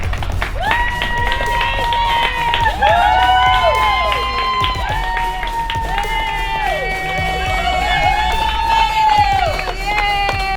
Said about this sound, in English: people start cheering for us.